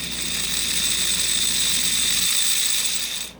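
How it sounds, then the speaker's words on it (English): A Marx custom motor drives the original Lionel 33 standard gauge locomotive gearing on the bench, giving a steady, close, high-pitched mechanical whir with a ratcheting gear buzz that cuts off abruptly at the end. "Now I've got the motor connected to a foot pedal off a sewing machine so I can test it."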